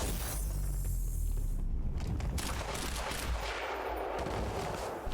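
Sustained gunfire in the action video game Quantum Break, dense overlapping shots and bursts mixed with booming impacts and mechanical clatter, loud and continuous with no talking.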